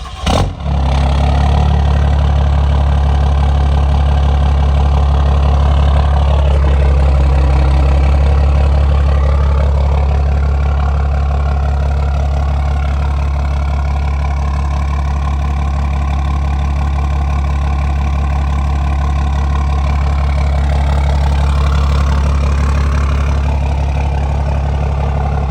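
A Cummins diesel truck engine fitted with big injectors and a CP3 pump idles loud and steady after a short start-up burst, with a deep, constant low rumble and no talk over it.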